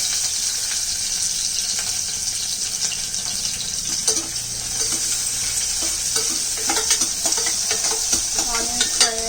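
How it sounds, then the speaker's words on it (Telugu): Onions frying in a pan, a loud close sizzle that runs throughout, with rhythmic scraping and stirring strokes growing busier toward the end. "నెక్స్ట్ ఫ్రై అయిన తర్వాత ఉల్లిగడ్డలు, ఫ్రై చేసుకోవాలి."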